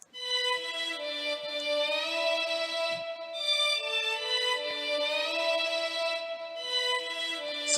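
FL Studio orchestral string section layered an octave apart, playing a sustained, gliding melody with smooth legato note changes, bright and full, continuous and alone.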